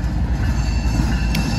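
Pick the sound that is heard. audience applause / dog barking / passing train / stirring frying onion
passing train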